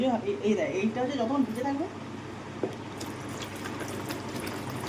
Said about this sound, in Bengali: জল ওপরে আসছে আবার নিচে যাবে আবার নিচের থেকে নিচে যাবে